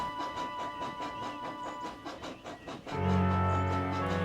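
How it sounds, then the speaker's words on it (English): A Bachmann HO/OO model train runs along the tracks with rhythmic clickety-clack, then a louder steady hum and whine from the locomotive takes over near the end, close up with no talking. "Donald set off with the breakdown train, and Henry followed."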